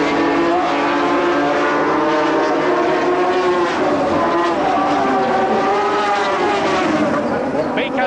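Formula 750cc racing motorcycles at Brands Hatch in 1977, steady loud engine drone with rising and falling harmonic tones as several bikes sweep past, a commentator talking over it throughout.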